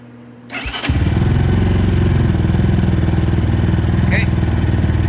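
Venom X22R Max 250cc motorcycle engine cranks and fires up indoors in a warm shop, then settles into a loud, steady, close-up idle with rapid even pulsing.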